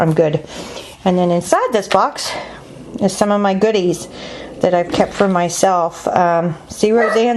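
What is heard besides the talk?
No everyday noises stand out.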